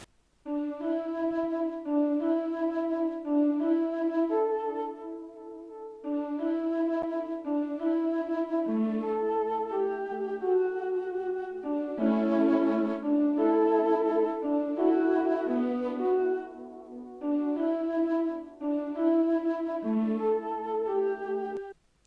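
A breathy Sonatine Orchestra flute plays a flowing melody doubled by a bright Zenology lead synth, sustained phrases with brief pauses, clear and upfront, no voices.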